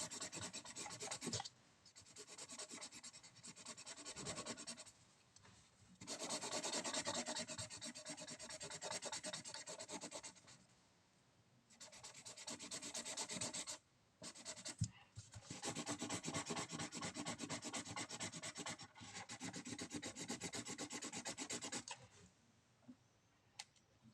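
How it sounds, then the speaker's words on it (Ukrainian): A yellow felt-tip marker scratches across paper in quiet, close strokes, repeated bursts of rubbing separated by short pauses, with no talking. "Потім беремо жовтий фломастер и розфарбовуємо."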